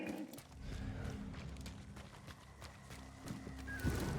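A horse in the game Hunt: Showdown 1896 clip-clops close by with a continuous rhythmic hoof patter and a brief neigh, loud and unbroken for a few seconds with no talking.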